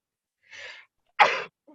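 A single person sneezes once during a podcast, a short breathy intake followed by a sharp loud burst, close and clear in a quiet room.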